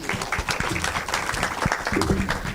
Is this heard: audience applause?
yes